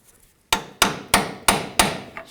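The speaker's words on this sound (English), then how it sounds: "Just use a pry bar and a hammer. And just pry that off." A hammer strikes a pry bar five times in a steady rhythm to knock an alignment cam off the front upper control arm of a 2000-06 GMC Yukon, each sharp metallic hit ringing briefly, close and loud.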